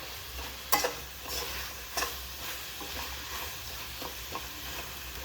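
Spinach frying in oil for palak paneer, a low steady sizzle with a few sharp stirring clinks of a spoon against the pan.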